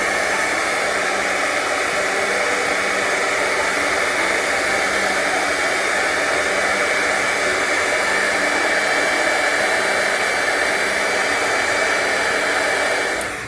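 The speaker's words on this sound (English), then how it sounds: "And to take away those pesky labels with the heat gun." A heat gun strips labels with a loud, continuous blowing roar that holds steady from start to finish before cutting off at the very end.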